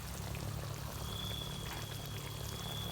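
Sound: pouring coconut cream into a pot of catfish curry

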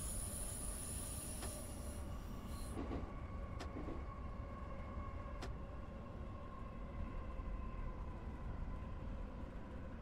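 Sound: Tokyo Keihin Tohoku line commuter train in a train simulator video game

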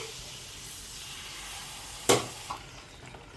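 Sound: chicken added to pan for Kerala chicken curry, sizzling

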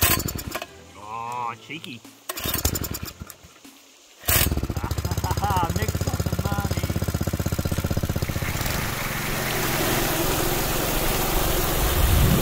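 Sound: high banker engine starting and running

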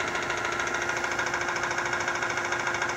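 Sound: electric boat motor running forward at 12 volts

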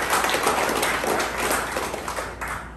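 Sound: audience applause at a graduation

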